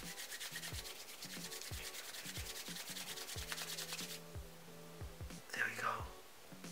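Split dreadlocks rubbed between the hands make a close, steady brushing and scratching sound in repeated strokes, while a voice speaks softly alongside.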